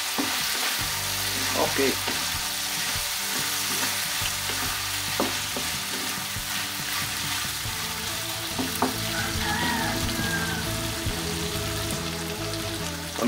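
Seafood and chicken pancit canton noodles sizzle while being stirred in a pan, with steady frying crackle, scraping and clinks of utensils throughout, and a brief spoken word.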